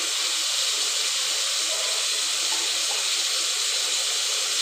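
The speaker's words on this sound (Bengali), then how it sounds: "হালকা করে ভেজে নিলাম।" Onions fry in a pan for chicken curry, producing a steady, dense hiss that stays even and fairly loud throughout, with no voices.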